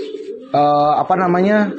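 Pigeons of a pedigreed racing or show line coo in two strong, close, harmonic phrases, the first after a brief quieter stretch and the second following straight on, with a person's speech faintly underneath.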